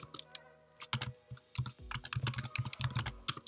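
Fast typing on a regular computer keyboard, close and clear, with irregular bursts of key clicks and thumps of the space bar, no one speaking.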